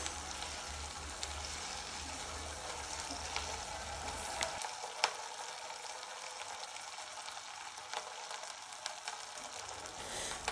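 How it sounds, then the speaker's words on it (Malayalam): Ginger garlic paste sautés in a pan for chilli chicken, giving a soft, steady sizzle that continues alone with no talking; a low rumble underneath stops partway through. "അപ്പോൾ അതിട്ടിട്ട് നന്നായിട്ടൊന്ന് കുറച്ച് നേരം വഴട്ടുക, അതിൻ്റെ ഒരു പച്ചമണം മാറണ വരെ കേട്ടോ."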